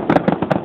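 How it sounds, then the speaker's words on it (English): Big fireworks burst during the finale of the Oboon Hanabi festival in Japan, with several quick booming cracks packed into under a second, loud and close together. "Yes, the best fireworks."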